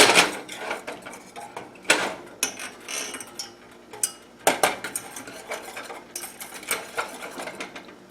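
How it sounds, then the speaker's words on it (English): Whisk strokes clatter against a pot of homemade chocolate milk on the stove, an irregular run of scraping, ticking metallic hits with a few sharper knocks, close and fairly quiet, no voices. "You can see right there, I'm kind of whisking it around there."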